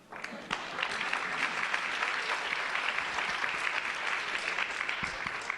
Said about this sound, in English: I'd like to hope the gentlemen will clap for that as well